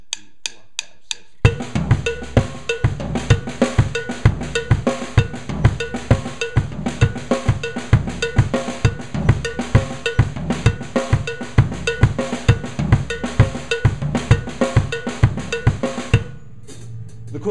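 Cowbell and drums lock into a fast 6/8 polyrhythm, the player alternating strokes across the three instruments in a dense, driving stream of hits, loud and close, ending abruptly with a brief tail and no talking.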